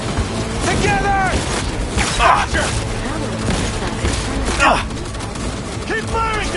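Gunfire in the video game Cyberpunk 2077, loud bursts and booming shots running through a busy firefight mixed with shouting voices and game sounds.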